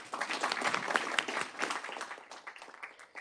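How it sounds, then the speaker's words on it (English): Audience applause at a Hudson County Community College fall convocation, a steady wash of many hands clapping that thins slightly toward the end, moderately loud with no talk over it. "How about a round of applause?"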